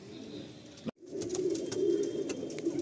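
Andhra Fulsira pigeons coo softly in low, throaty murmurs close by, broken by a brief silent gap before the cooing resumes.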